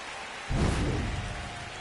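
Heavy rain pours down during a baseball video game, a loud rushing wash that begins abruptly, with a deep rumble like thunder beneath it.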